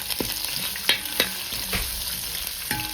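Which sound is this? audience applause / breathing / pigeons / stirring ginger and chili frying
stirring ginger and chili frying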